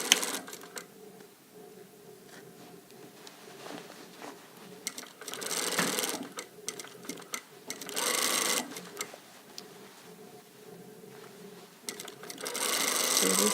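A sewing machine stitching a blazer sleeve, running in short bursts and longer steady runs of rapid mechanical whirring with brief pauses between, recorded up close.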